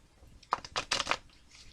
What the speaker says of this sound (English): I'm shuffling a lot because that's what they're telling me to do.